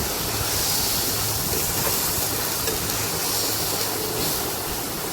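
Pointed gourd paste sizzling in a hot pan, a steady, broad hiss that holds at an even level from start to finish with no talk over it.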